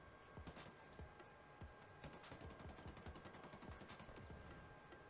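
Gunfire in the video game Ghost Recon Breakpoint, rapid bursts of automatic fire and sharp single shots crackling repeatedly, fairly near with some echo and no talk.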